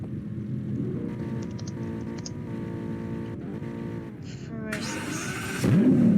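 A car engine at a car show revs in the near distance, rising in pitch toward the end, with crowd noise and faint talk around it.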